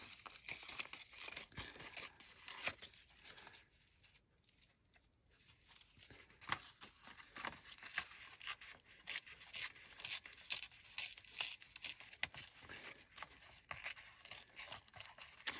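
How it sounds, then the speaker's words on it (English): Paper scrap embellishments are ripped by hand in a run of quick, close tearing and crinkling bursts, with a short pause partway through, fairly quiet and with no speech. "And I am just ripping them."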